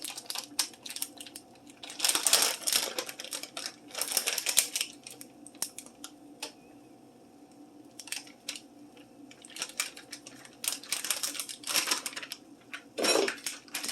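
Someone struggles to open a plastic package of Kraft cheese slices in a kitchen, with several short bursts of crinkling and tearing separated by quiet pauses, close and fairly soft.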